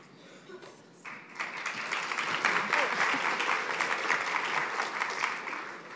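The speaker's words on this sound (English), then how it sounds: "No applause needed." An audience at an opening-remarks session breaks into applause that starts after a quiet second, then holds as a steady, dense patter of clapping that fades slightly at the end.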